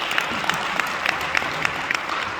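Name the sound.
audience applauding junior citizen awardees at a banquet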